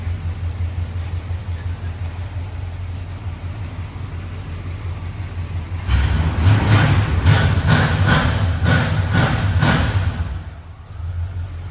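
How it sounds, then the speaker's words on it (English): An El Camino engine with Jegs long-tube headers idles with a low rumble, then a run of about six sharp revs blares out in quick succession before dropping back to idle. "Let's give it a couple of revs."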